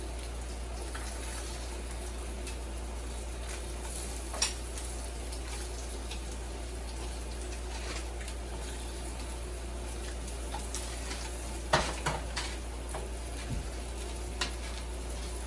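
Soft, steady sizzle of a hash brown breakfast sandwich frying in a pan, a faint continuous hiss under a low hum, with a few small pops and scrapes scattered through and no talking.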